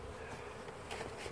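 Honey bees buzz at an open beehive during an inspection, a faint, steady close-up drone of many insects.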